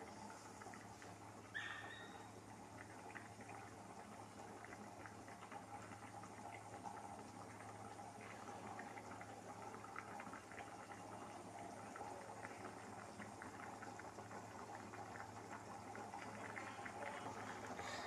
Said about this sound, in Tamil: இப்போ வந்து இதுலேருந்து லைட்டாக கொதி வர ஆரம்பிச்சிருச்சு